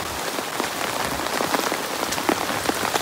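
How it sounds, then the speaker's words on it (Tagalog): Heavy rain pours steadily, a dense hiss of drops drumming on surfaces, with scattered louder splats throughout and no voices. "ulan naman ng malakas"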